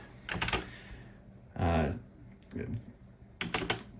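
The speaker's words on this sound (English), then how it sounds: "Again, this is an ADB keyboard." Keys clack in short bursts on a retro ADB computer keyboard with rubber-dome and mylar switches rather than mechanical ones; three separate flurries of typing sound close and moderately loud with pauses between them.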